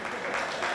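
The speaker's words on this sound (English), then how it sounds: "Don't applaud." A brief burst of audience applause, steady clapping from a crowd filling the moment.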